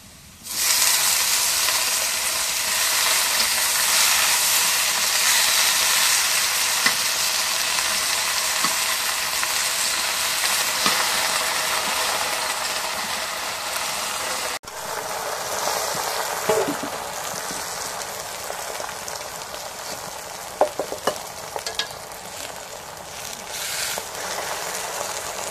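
Leafy greens, napa shak, tipped into a pan of oil with fried green chillies and onions, crackling in a steady loud sizzle. The frying is louder at first and settles a little midway, with occasional stirring clinks near the end.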